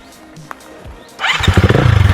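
A motorcycle starts up after some quiet rustling and then revs loudly and close with a pulsing engine note, heading out on a forest trail.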